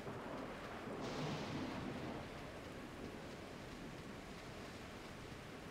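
Roaring wind and rain make a broad storm effect in the Ninja Gaiden Black video game, with a louder gust swelling in the first two seconds. After that it settles to a steady, fairly faint rushing wash, with no talk.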